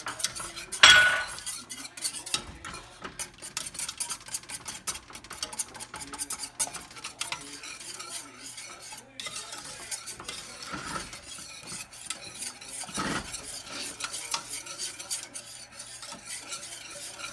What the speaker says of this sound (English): You want to whisk this well.